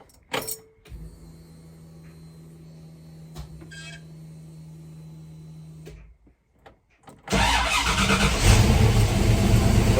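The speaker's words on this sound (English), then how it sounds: "car started." A car fitted with a kill switch stands quiet for several seconds with a low electrical hum and a few clicks, then its engine cranks and catches, roaring into a loud, steady idle close by.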